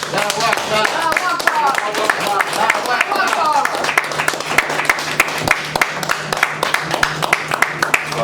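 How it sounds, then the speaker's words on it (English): An audience applauds warmly for Brother Minister Herman Muhammad, steady dense clapping and cheering voices from a crowd indoors, continuing throughout at a sustained loud level. "Please give him a round of applause, Brother Minister Herman Muhammad"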